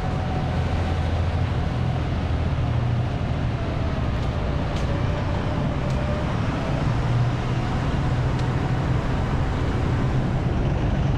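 A tractor scraping cow beach beds on a farm, heard as a steady, loud engine drone and grinding rumble throughout, with low mechanical hum and occasional faint clanks, no talk.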